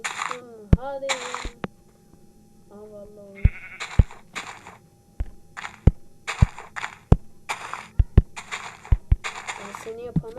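Several sheep bleats in Minecraft, wavering and nasal, come between sharp clicks and taps, with spoken voices and scattered noise bursts throughout.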